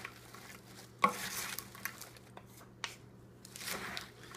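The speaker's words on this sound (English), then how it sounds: "Make sure you scoop down at the bottom and pull up some of that salad dressing that we made, the fresh one" Caesar salad tossed with freshly made dressing produces soft wet stirring and scooping, a clear clack of utensils against the bowl, then gentle crinkly rustles, all fairly quiet.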